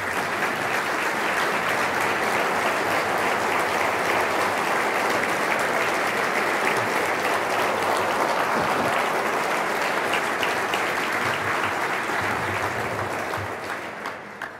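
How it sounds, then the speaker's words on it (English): Steady, dense applause from an audience honouring the GE team at a community event, sustained for most of the stretch before tapering off at the end. "And let's give them a round of applause."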